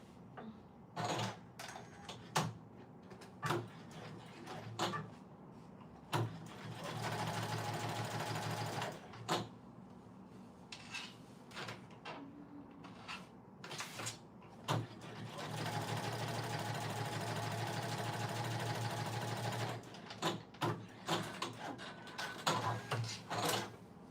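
A sewing machine stitches Oakley Bottoms from an Edgewater Avenue Patterns design, running in bursts of whirring with longer sustained runs, separated by clicks and handling noises.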